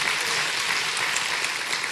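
A church congregation claps in praise during a service, a dense, continuous wash of many hands at an even, fairly loud level with no talk.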